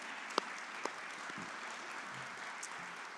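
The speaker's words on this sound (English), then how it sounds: "Let's give her another round of applause." Audience applause at a leadership forum, a faint, distant wash of clapping with a couple of sharper claps standing out early on, and no voices.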